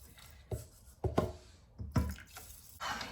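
Water pours and splashes from a kitchen tap in short bursts while rice is rinsed for cooking, quiet and close with brief gaps between flows.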